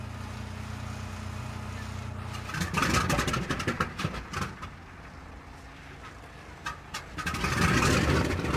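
A B-29 bomber's engine starting up after cold, careful restarts, a low idle that suddenly catches into a loud rough sputtering roar, dips, then surges again, with faint talk in the background.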